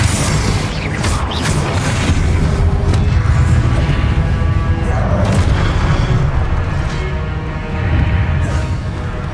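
Confringo blasting spells exploding in Hogwarts Legacy, with loud, dense booms and crashes rolling one into another in a continuous barrage.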